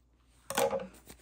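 Shears cut a fringe into layered leather, one short crisp snip lasting under half a second, fairly close, with quiet room tone before and a faint trailing rustle after.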